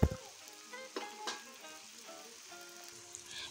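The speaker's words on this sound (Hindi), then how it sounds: "प्याज के साथ ही हम डाल देंगे कड़ौंची।" Kadwanchi fries with onions in a hot pan, a close, bright sizzle that starts with a loud sputter and then settles into a steady crackle, with a few stirring knocks and no voices.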